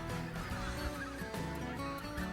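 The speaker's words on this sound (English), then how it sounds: "white-fronted geese are most likely to tumble when landing" White-fronted geese honk in a dense, overlapping chorus of nasal calls, with a steady flock clamor filling the air and no voices.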